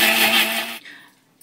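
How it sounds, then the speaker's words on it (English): An electric kitchen shredder chopping tomato chutney, its motor whirring loudly for under a second before spinning down and stopping abruptly. "we are going to run it on the shredder again"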